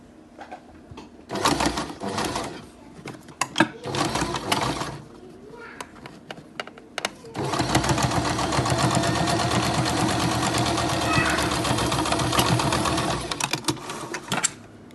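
A sewing machine stitches a handmade cotton face mask, running in short bursts at first and then in one long steady whirring run, close and fairly loud.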